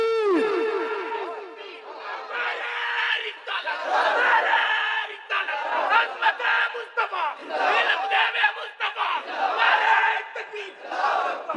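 A large crowd at a religious gathering shouts back in unison after the takbir call, with loud rising and falling chanted cries that repeat in waves, backed by a ringing public-address echo.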